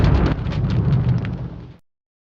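The Half-Life mortar hit sound effect, a single loud, close explosion with a heavy low rumble and crackling debris, decaying over about a second and a half before cutting to silence.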